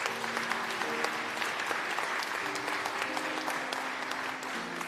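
A crowd applauds steadily, dense clapping filling the space at moderate volume, with faint musical tones underneath.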